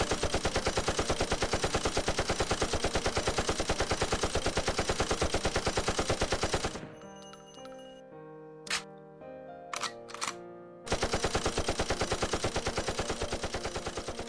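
Rapid automatic gunfire rattles continuously and loudly, breaks off for a few seconds with scattered single shots, then resumes in a sustained burst.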